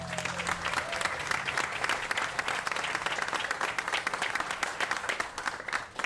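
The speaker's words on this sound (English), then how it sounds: "Can we give them a round of applause?" Outdoor crowd under a tent at a microforest opening in Louisville's Founders Square clapping in a sustained, even round of applause lasting several seconds, close and fairly loud throughout.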